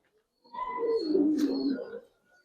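A single Giribaz coloring pigeon gives one soft, throaty coo lasting about a second and a half, close and clear against near silence.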